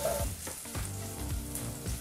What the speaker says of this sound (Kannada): ಜೊತೆಗೆ ಸ್ವಲ್ಪನೇ ಸ್ವಲ್ಪ ಕರಿಬೇವಿನ ಸೊಪ್ಪನ್ನು ಹಾಕಿ ಇದನ್ನೆಲ್ಲ 1 ನಿಮಿಷಗಳ ಕಾಲ ನೀಟಾಗಿ ಎಣ್ಣೆಯಲ್ಲಿ ಫ್ರೈ ಮಾಡ್ಕೋಬೇಕು.